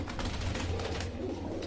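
Punjabi pigeons coo softly in low, repeated murmurs, with several birds overlapping close by in a steady, quiet chorus.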